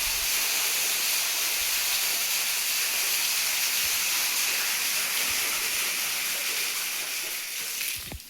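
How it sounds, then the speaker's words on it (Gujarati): Surplus water from a farm well pump rushes back through a return valve and pipe, a steady loud hissing roar like a gushing stream that holds nearly constant before a brief drop at the end, with no voices. "રિટર્ન પાણી પાછું જાય છે વધારાનું"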